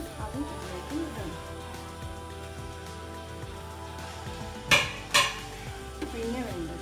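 A spoon stirs haleem mixed with fried onion, garlic and mint, making repeated close scrapes in the pot over a light sizzle. Two loud metallic clanks come near the end.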